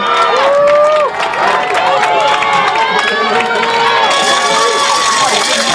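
A loud home crowd cheers and shouts from the stands at a Texas 4A high school football game between Sulphur Springs and Mabank, with sustained roaring and yelling throughout and a commentator talking over it.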